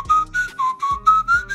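A person whistles a tune, a short run of clear, close melodic notes alone with no talk.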